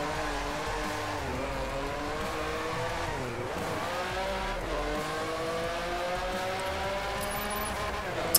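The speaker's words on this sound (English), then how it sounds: "It's literally the best engine noise you'll ever hear from any car in the world." Race car engine in the DRIVECLUB driving game roars steadily and loudly throughout, pitch climbing and dropping through gear shifts as the car accelerates and brakes into corners, with no talk over it.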